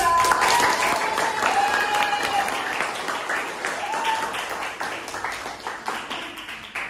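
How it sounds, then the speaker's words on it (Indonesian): A classroom of students claps together after being asked to applaud, steady dense applause across the whole stretch with a few voices mixed in. "Tepuk tangan buat 10."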